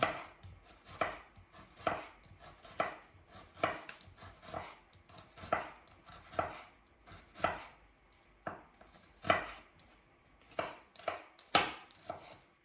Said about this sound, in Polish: Cebulkę kroimy takie cienkie, półksiężyce.